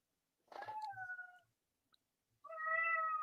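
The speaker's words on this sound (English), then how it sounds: "Do I hear a kitty?" A cat named Edgar meows twice, two clear, fairly quiet, drawn-out cries separated by a short pause.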